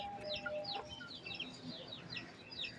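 Desi chickens feeding on rice together give off quiet, repeated clucks and short chirping calls at a steady moderate distance, fairly faint over a soft background, with no one talking.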